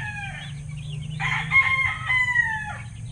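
One-month-old chicks in a small outdoor range area on a cool farm, giving soft, overlapping cheeps and clucks over a low steady hum, close and moderately loud, without speech.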